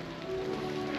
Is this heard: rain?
yes